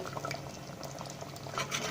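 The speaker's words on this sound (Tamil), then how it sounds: "இது நல்லா ஒரு 5 நிமிஷத்துக்கு நல்லா கொதிக்கணும்." A thick mutton kurma curry with fresh cream bubbling and boiling steadily in a pot, soft popping and gurgling at close range with no talking.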